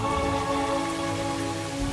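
Rain falls steadily in a film scene, a continuous wash of sound with a sustained musical drone underneath and no talk.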